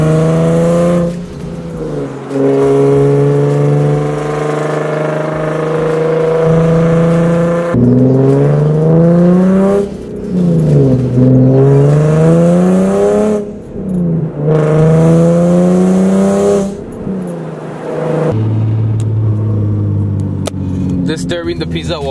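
A Nissan 370Z or 350Z with a modified exhaust revs loudly and repeatedly, its deep exhaust note rising and falling, with people talking over it.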